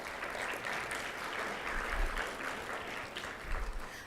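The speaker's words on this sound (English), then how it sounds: "Please give Anjali another round of applause" Audience applause for contestant Anjali at an MLK oratorical contest reception, a steady, fairly distant roomful of clapping that holds evenly throughout.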